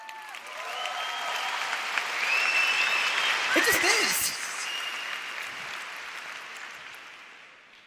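A large crowd at the Web Summit 2016 conference claps loudly, the applause swelling to a peak and then slowly fading, with brief whoops and a short spoken line over it.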